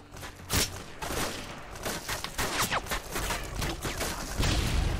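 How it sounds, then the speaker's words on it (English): Sniper rifle fire in Call of Duty Modern Warfare 2 multiplayer, heard as a dense wash of scattered gunshots and crashes at mid distance, steady throughout with occasional louder cracks and no speech. "Where's that sniper fire coming from? I keep hearing someone shooting it"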